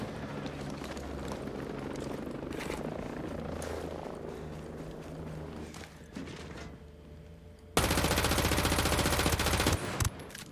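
Gunfire in Ghost Recon Breakpoint: a dense run of loud automatic bursts with in-game ambience, then a sharp, louder volley near the end.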